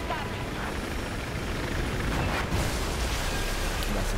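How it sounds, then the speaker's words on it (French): A helicopter in Battlefield 4 gives a dense, steady roar of rotor and engine noise across the whole clip, loud and continuous, with game sounds mixed in and faint talk underneath. "Un hélico pour nous aider là."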